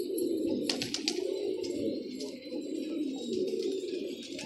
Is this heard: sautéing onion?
no